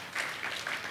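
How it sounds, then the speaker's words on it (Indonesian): Church congregation at a Gibeon Church service in Surabaya cheering and clapping together, a steady dense wash of applause and shouts with no single voice standing out. "Berikan sorak-sorai yang paling meriah buat Tuhan kita"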